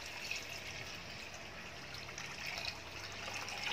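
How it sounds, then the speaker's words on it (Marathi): Water is poured onto half a kilo of semolina in a bowl, a faint, steady trickling pour with no voices. "आता त्यात आपल्याला पाणी घालून घ्यायचं आहे"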